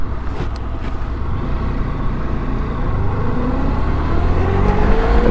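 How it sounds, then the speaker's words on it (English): A car passing on a road near a motorcycle, its engine noise rising steadily as it approaches, loud and continuous with no talk. "What's this car doing?"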